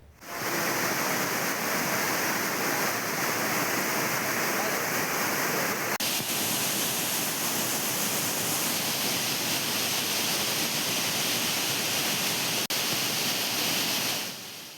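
The main falls at Courtallam in Tamil Nadu give a loud, steady roar of heavy falling water. The roar is continuous, broadband and close, and it fills the whole clip.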